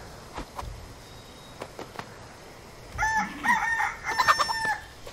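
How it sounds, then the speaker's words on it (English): Chicken clucking and crowing in the video game Far Cry 6, a few sparse clucks followed by a loud, close burst of calls over quiet game ambience. "Why is there a chicken?"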